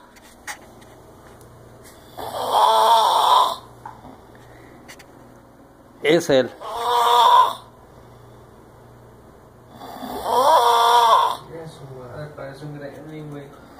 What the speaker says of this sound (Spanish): Y dice que no ronca.